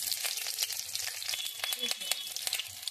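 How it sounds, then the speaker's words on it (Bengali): Garlic crackles and sizzles steadily in hot oil, a dense continuous frying hiss with small pops throughout. "আর রসুনটা ফোড়ন দিয়ে দিলাম।"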